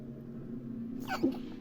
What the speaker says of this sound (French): Attention, un éternuement va arriver.